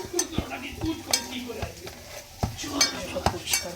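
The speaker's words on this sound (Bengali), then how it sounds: "এখানে আলু ফুলকপি ভাজা হচ্ছে" Potatoes and cauliflower fry in a pan under a soft sizzle, with a spatula scraping and clinking against the metal in a loose, repeated stirring rhythm.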